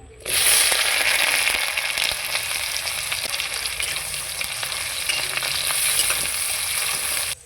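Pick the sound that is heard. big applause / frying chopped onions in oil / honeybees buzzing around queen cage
frying chopped onions in oil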